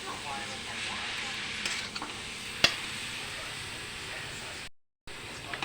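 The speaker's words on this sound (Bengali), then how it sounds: "নারকেলটা একটু ভাজা ভাজা করে নিতে হবে।" Grated coconut is being dry-roasted and stirred in a pan, giving a soft, steady sizzle with light scraping, faint and close, with one sharp clink partway through.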